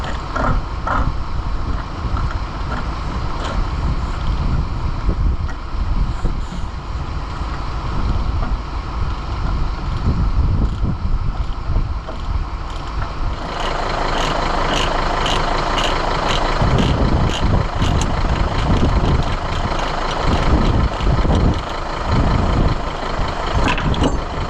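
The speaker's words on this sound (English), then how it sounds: "get that telehandler off as well" A telehandler engine runs steadily nearby in a yard, a continuous low diesel rumble with some wind buffeting on the microphone and a rougher, busier stretch of engine noise in the second half.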